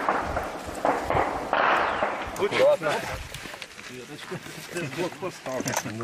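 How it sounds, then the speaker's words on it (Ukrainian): Bursts of incoming shelling explosions and sharp cracks go off at a frontline position amid shouting voices, loud and chaotic, with talking continuing over the din. "адже раптом починається обстріл."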